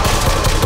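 A burst of loud, close gunfire from Bioshock Infinite crackles in quick succession for under a second.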